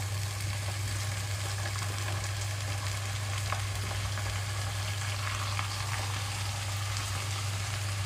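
Chopped amaranth leaves frying with onions in a pan, a continuous moderate sizzle with scattered small crackles over a steady low hum, no speech.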